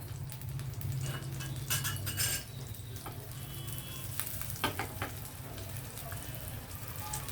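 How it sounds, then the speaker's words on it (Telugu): Garlic, cumin and mustard seeds fry in hot oil, a steady close sizzle with crackling pops and occasional scraping of a stirring spoon against the pan. "వెల్లుల్లి కొంచెం వేడెక్కిన తర్వాత మనం జీలకర్ర ఆవాలు వేస్తాం."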